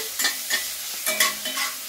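Potatoes sizzle in a pan, stirred in several quick, rhythmic scraping strokes over a constant close frying hiss, with no speech.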